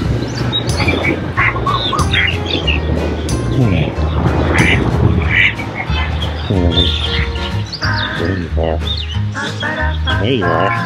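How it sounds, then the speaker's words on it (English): Ducks quacking and squawking nearby at Kuhio Day in a Waikiki park, a busy overlapping chorus of bird calls with some chirps, continuing throughout. "That's not a Nene. That's a duck."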